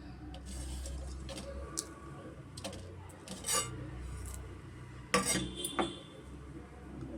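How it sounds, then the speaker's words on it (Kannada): Black pepper, cardamom, fennel and ginger are pounded by hand, giving scattered soft knocks and a few sharper metallic clinks against a quiet background. "ಕಾಳುಮೆಣಸು ಏಲಕ್ಕಿ ಸೋಂಪು ಮತ್ತು ಶುಂಠಿನ ನಾವು ಕುಟ್ಕೊಬೇಕಾಗತ್ತೆ"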